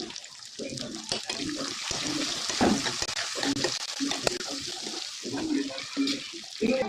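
Brinjal, tomatoes and curry leaves frying in hot oil, sizzling and crackling close by with scraping stirring sounds and irregular bursts, a voice speaking now and then.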